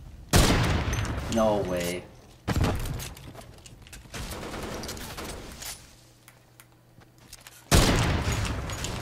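Gunfire in Fortnite on Nintendo Switch, with bursts of shots that stop and start over several seconds, fairly loud and close. A player speaks briefly over the shooting.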